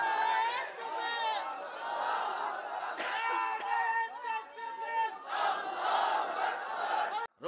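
A large crowd at a Bengali sermon roars the takbir, Allahu Akbar, in loud repeated chanting waves that surge, dip and swell again before cutting off abruptly.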